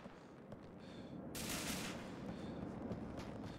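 Gunfire in the video game GTA IV: The Lost and Damned, a dense, loud burst of shots swelling at mid-clip over steady game noise, with no talk.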